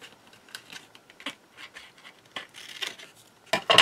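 Scissors or a blade cutting small pieces off a cardboard box, a series of sparse, sharp snips and crisp cardboard crackles close by, growing louder toward the end, with no talking.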